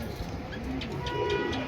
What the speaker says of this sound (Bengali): এই যে দেখেন কবুতর দুইটা খাঁচায় ছাড়ছে